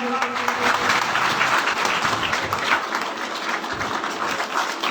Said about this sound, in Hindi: सब लोग ताली